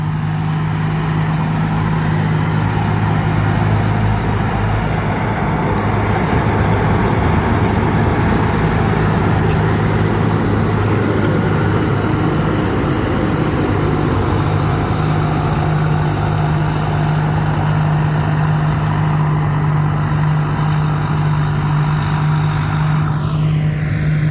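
A combine harvester's twin-turbo J5 engine runs steadily at idle, a continuous loud droning hum with a low whine, alone and close by throughout.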